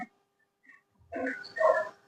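Dogs give a couple of short whimpering yips and a brief bark at night, faint and sparse with silent gaps between the sounds.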